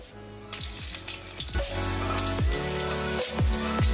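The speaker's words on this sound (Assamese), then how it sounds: "আৰু নহৰুখিনি ৰঙচুৱা হোৱালৈকে মই ভাজি থাকিম।" Chopped garlic fries in hot oil with nigella and cumin seeds for a mango pickle, a close, continuous sizzle with brief swishing stirs and no voices.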